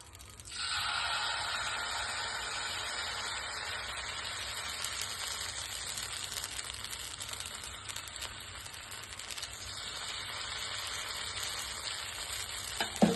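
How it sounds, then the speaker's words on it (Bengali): White oil sizzles on a hot tawa while oats pitha is being made, a steady close-up hiss that holds evenly for over ten seconds after starting abruptly, with a few clatters at the end. "তাওয়া তো গরম হয়ে গেছে এবার আমি অল্প সামান্য একটু সাদা তেল দিয়ে দিলাম"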